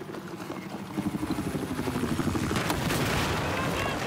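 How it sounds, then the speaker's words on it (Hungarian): A Battlefield 4 helicopter thumps overhead on the Sunken Dragon map, its rotor pulsing loud and rhythmic as it closes in, with gunfire and blasts crackling around it. "Az helikopter is."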